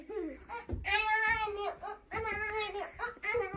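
A young girl makes a series of drawn-out, whiny meowing cries, imitating a cat, in several bursts with short pauses between.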